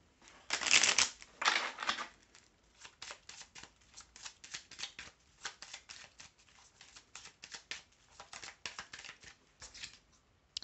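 Petit Lenormand fortune-telling cards shuffled by hand, two loud riffling bursts at first followed by a long run of quicker, softer card flicks and slides, close and alone without speech.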